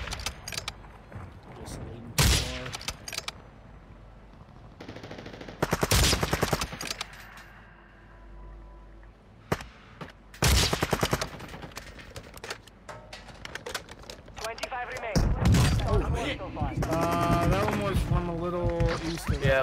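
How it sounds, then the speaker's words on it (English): Gunfire in the Call of Duty video game on Ashika Island: repeated loud bursts of automatic shots, some short and some sustained, mixed with game sounds and voice callouts throughout. "Shooting up at the ridge line."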